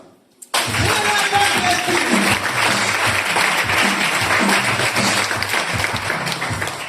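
A church congregation breaks into sustained applause after a short quiet start, a dense, loud wash of many hands clapping that continues to the end with some voices mixed in.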